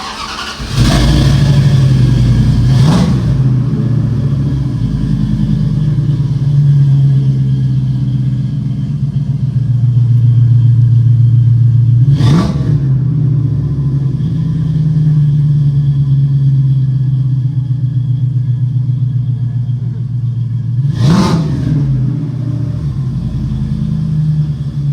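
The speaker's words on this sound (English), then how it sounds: "Okay, so fire up the truck." A Dodge Ram truck with a 5.2 Magnum V8 and new Demon exhaust rumbles loudly and steadily at close range, punctuated by three sharp throttle blips spaced several seconds apart, with no talk.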